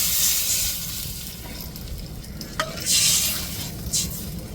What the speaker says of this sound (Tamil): இப்போ கரைச்சி வச்சிருக்கிற புளியை சேர்த்துக்கிடுவோம்.